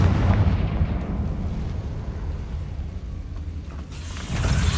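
A Confringo fire spell cast in the video game Hogwarts Legacy, a loud sustained crackling, rumbling burst with a low boom at the start and a renewed surge near the end, with no talk.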